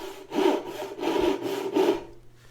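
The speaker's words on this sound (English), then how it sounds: "I'm using my fancy new-ish dovetail saw" A dovetail saw cuts a wooden tenon 4 inches wide and 1/4 inch thick, giving three close, steady rasping strokes in an even back-and-forth rhythm, with a brief quieter gap after the last stroke.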